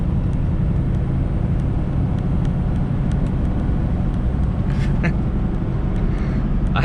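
A heavily loaded 2021 Ford F450 truck's engine drones steadily and loudly as it climbs a hill in eighth gear, a constant low rumble with road noise throughout.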